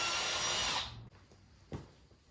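A power drill bores a pilot hole through a plastic side skirt on a VW MK7 Golf R, a loud close whir lasting under a second before stopping abruptly, followed by a faint knock.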